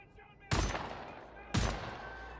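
Enemy gunfire in the shooter Wolfenstein: The New Order, with two sharp, loud shots about a second apart, each followed by a ringing decay.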